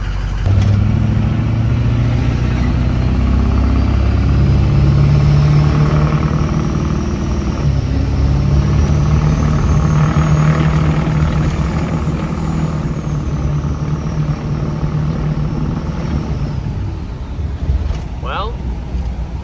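A loud, steady turbocharged truck engine drone with a low hum and a rising whine, heard from inside the moving truck.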